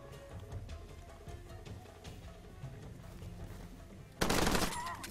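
Machine gun fire in the video game Far Cry 2: scattered sharp shot transients in a busy game soundscape, then one loud dense burst of automatic fire near the end, trailing off.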